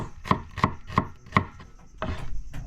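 An onion is chopped with a knife on a board for sautéed sea mantis: four crisp, evenly spaced chops close by, followed by a softer, longer cut.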